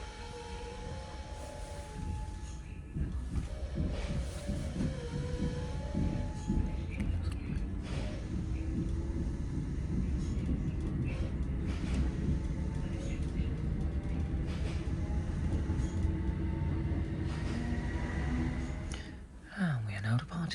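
Train pulling away from Cambuslang station near Glasgow, heard from on board, with a steady low rumble and hum that builds and holds throughout, under faint voices.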